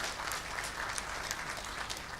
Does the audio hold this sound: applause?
yes